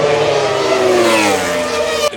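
A 2011 Formula 1 car and a MotoGP motorcycle race off a standing start, engines screaming loud and close in one sustained high-revving roar with rising pitch, ending in an abrupt drop.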